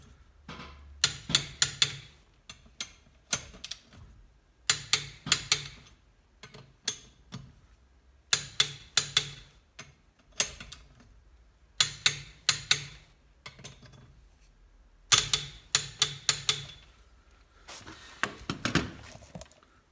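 A torque wrench tightens car wheel nuts crosswise during a tyre change, giving repeated runs of sharp ratcheting clicks in regular bursts of several ticks each, close and clear with brief gaps between.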